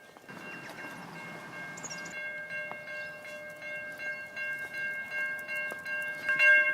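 Train at a railway crossing near home, a long rolling rumble of railcars with bell-like crossing tones ringing steadily, fairly distant and alone.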